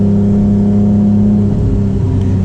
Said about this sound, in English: this is the best sounding OEM exhaust in the world